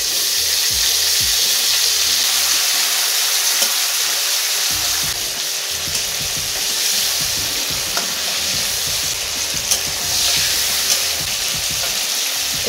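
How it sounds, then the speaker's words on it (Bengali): Prawns frying in hot oil in a home kitchen, a dense, steady sizzle and crackle that runs unbroken throughout, with occasional clinks and scrapes of stirring close by. "चिंगड़ी माछगुलो भाजा हो गेছে, এগুলো তুলে নেব"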